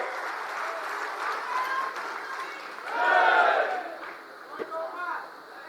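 Crowd at a political gathering applauding to welcome Isudan Gadhvi, a burst of clapping and cheering that peaks and then settles, with people talking over it.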